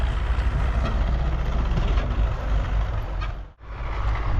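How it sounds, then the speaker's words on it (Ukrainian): A tractor pulling a seed drill rolls in on a farm field, its steady diesel engine rumble loud and close, with a brief dip in noise near the end before the drone resumes. "Ось приїхав трактор із сівалкою"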